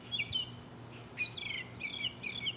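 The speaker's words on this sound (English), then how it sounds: "these morning birds are so loud" Morning birds chirping outdoors, with repeated short, high tweets and trills coming in quick bursts over a steady low background rumble, moderately loud and with no talking.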